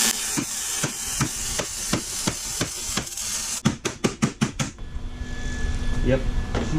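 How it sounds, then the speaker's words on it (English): A hammer taps a Barnes4WD frame stiffener flat against a Jeep XJ unibody: about a dozen evenly spaced metallic strikes, then a faster burst of blows, ending under a steady hiss of air. "He's gonna hammer it in, get it to bend so it'll lay flat against the unibody"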